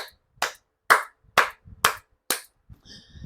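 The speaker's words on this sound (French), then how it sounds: "Cyril Toulou, je t'applaudis, mon frère." Six sharp, evenly spaced hand claps ring out close and loud, alone with no talk, followed by a faint trailing tone.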